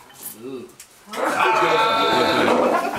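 A voice imitates a wild bull's roar in a Christmas-party play, a loud, sustained, rough bellow of about two seconds that follows brief quieter vocal sounds.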